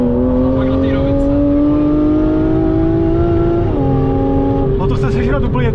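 An Aston Martin super GT, either a Vanquish or a DB12 coupe, accelerates hard. Its engine tone rises loudly and steadily, then briefly dips and climbs again, with people talking over it inside the car.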